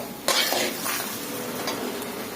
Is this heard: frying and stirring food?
yes